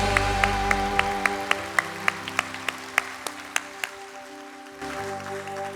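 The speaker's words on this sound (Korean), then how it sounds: "오늘도 살아 역사하시는 하나님께 영광의 박수 올려드리겠습니다" A church congregation claps in a steady, regular rhythm of evenly spaced hand claps over sustained organ or keyboard chords, then stops as the music carries on.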